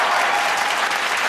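A studio audience at a comedy show claps loudly in a continuous, dense burst of applause that holds steady for the whole brief moment.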